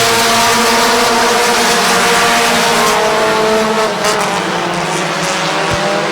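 Race cars roar continuously around Midvale Speedway in a late-race lap, engines loud and sustained with rising and falling harmonic whine as they pass, steady and close throughout.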